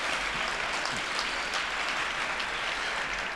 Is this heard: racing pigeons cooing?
no